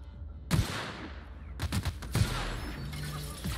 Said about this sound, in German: Dafür schieße ich den in den Arsch.